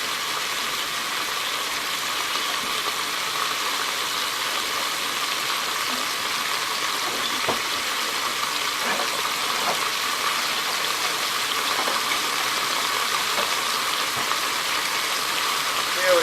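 Pork browning inside a Power Pressure Cooker, a steady broadband hiss of searing meat that runs evenly throughout with a few faint clicks and bumps under it.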